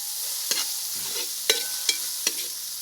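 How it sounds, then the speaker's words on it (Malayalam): Garlic fries in oil in a pan for Kerala-style chicken curry, a soft steady sizzle punctuated by four sharp clinks of a utensil against the pan, close by. "വെളുത്തുള്ളി നന്നായിട്ട് മൊരിയണം."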